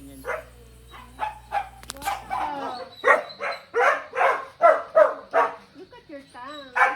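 Dogs barking and yipping in a rapid series of sharp, close calls, about a dozen in quick succession. A steady low hum sits under the first part.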